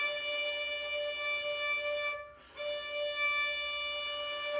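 Bow drawn steadily across a string in an early practice stroke, producing a sustained bright tone with many overtones that briefly breaks off mid-way as the bow changes direction, then resumes; quiet and close with no talking.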